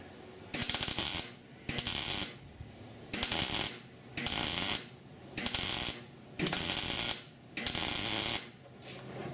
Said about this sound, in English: let's weld this last hole up